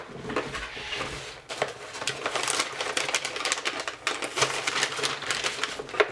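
A fishing tackle subscription box for bass is handled up close, with quiet rapid clicks, taps and rustling of cardboard and packaging as it is opened, no talking.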